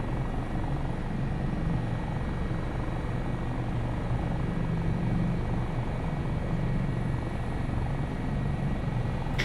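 AS365 Dauphin twin-engine helicopter in flight in a flight simulator game, a steady, loud rotor and turbine drone with low thudding blade beat holding constant throughout, no voices.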